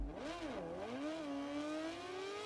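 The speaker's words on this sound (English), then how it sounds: "The riders are lined up, the engines are revving" MotoGP 17 video game motorcycles revving on the starting grid of the Spanish Grand Prix in the rain, engine pitch rising and falling in a loud, continuous drone before settling into a steady rising whine.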